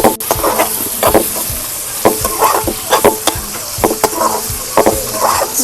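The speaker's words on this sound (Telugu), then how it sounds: "ఇట్లా కలిపేస్తా అయితే టమాటో కూడా వేస్తాం" Egg fried rice being stirred with tomato in a pan, a spatula scraping in repeated strokes about once a second over a steady close sizzle, with no talking.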